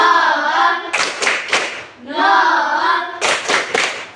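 A classroom of students does the 'tepuk 100' clapping pattern: chanted counting voices alternate with two rapid runs of crisp group claps, close and loud.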